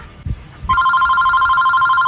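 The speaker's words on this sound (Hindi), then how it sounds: "तेरे पापा के पास फोन लगाता हूँ।" A phone call's ringing tone starts after a couple of soft knocks, a steady warbling electronic ring held loud and clear to the end.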